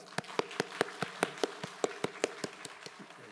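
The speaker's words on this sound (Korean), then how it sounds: "우리 하나님께 정말 감사하면서 영광의 박수를 드리겠습니다." Rhythmic group clapping from a church congregation, a steady series of sharp, evenly spaced claps about five per second, moderately close and without talk.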